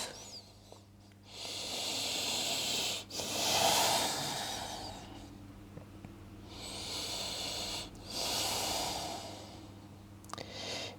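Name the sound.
slow deep breaths in a yoga forward fold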